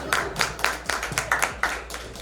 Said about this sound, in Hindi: मैं पोइट नहीं हूँ तो ताली बजाते रहना वरना हम यहीं दफन हो जाएंगे।